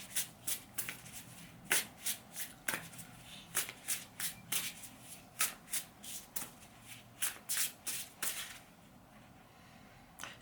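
A deck of tarot cards is shuffled by hand in a quiet room, giving a steady run of crisp riffling bursts roughly every half second, close and moderately loud, with no talking.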